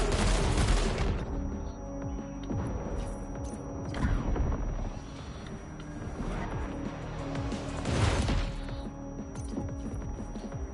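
Gunfire in the Death Stranding 2 video game comes as loud, dense bursts of shots and impacts over a continuous rumbling game soundscape, swelling and easing in waves over several seconds.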